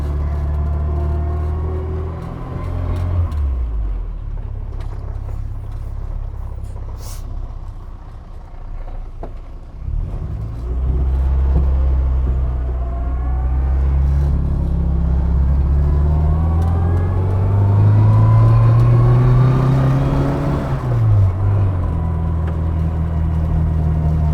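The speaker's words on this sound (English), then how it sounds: "Going to go slow up this hill. Just let the motor develop a little." Rare Austin Mini Cooper S engine drives slowly up a hill, the loud close drone rising and falling in pitch through gear changes, with a brief dip in the middle before pulling harder again.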